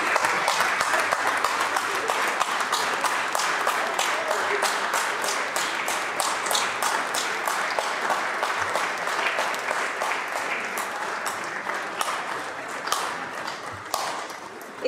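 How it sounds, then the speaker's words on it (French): Sustained applause from deputies filling a National Assembly chamber, dense steady clapping for the full stretch, loud and close, with a few sharper individual claps near the end. "les députés ont le droit d'applaudir"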